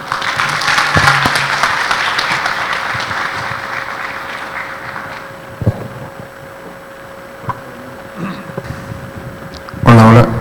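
Audience applause for a speaker at a conference, a dense wash of clapping that fades over several seconds, followed by quieter room noise, a few knocks and a loud microphone bump near the end.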